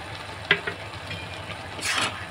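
Mawa being stirred into carrots simmering in milk for gajar halwa, a soft bubbling and scraping in the pot with a sharp clink near the start and a brief hissy burst toward the end.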